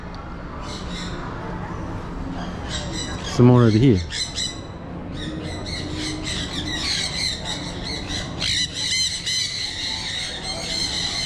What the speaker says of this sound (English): And then you can probably hear the squawking.